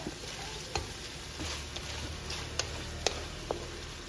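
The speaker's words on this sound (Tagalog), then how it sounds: "Lutuin natin ito hanggang ito ay maiga at lumambot yung ating mga karne" Pork for Bicol Express sizzling in a pan, a soft steady hiss with scattered small pops and ticks, fairly quiet and close, no voices.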